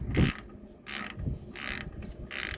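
A ratchet wrench tightens a fresh bolt, fitted with a rubber piece and a lock washer, into a bike frame. The clicking comes in four short bursts with brief pauses between them, close and clear.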